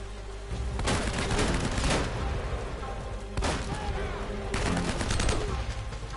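Video game gunfire rattles through an Uncharted boss fight, with bursts of rapid automatic shots repeating in loud clusters separated by brief lulls.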